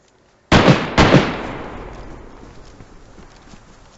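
Two sharp gunshots crack close together in the DayZ survival game, each one booming loudly and then trailing off into a long fading echo.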